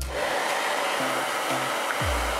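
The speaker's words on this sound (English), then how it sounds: "Then place them around the top of the cake and bring on the hairdryer." A hair dryer blows with a loud, steady rushing whoosh, close by, its motor note shifting slightly as it runs.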